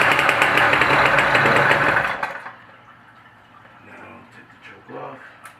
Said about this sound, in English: you could just start your bike by pulling it back